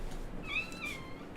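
A cat meows once in a drawn-out, wavering call, faint and somewhat distant over a low steady room hum.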